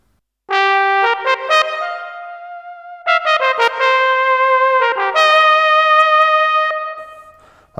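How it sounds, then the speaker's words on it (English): Synthesized brass tones, trombone and horn-like, from a Roland synthesizer play short stabs and sustained chords in a few phrases, clean and upfront with no other sounds. "That's a trombone, horns."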